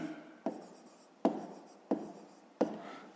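Pen or pencil strokes on paper while working a fifth-grade math exercise, four short scratchy bursts that each fade quickly, close and fairly quiet with no talking.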